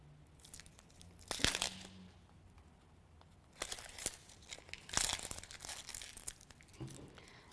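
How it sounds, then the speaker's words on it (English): Papery skin of a halved onion crinkles and tears away in a few sharp bursts near the start and middle, separated by quieter handling, with no voice. "Cut your onion in half, and that's when you want to peel it."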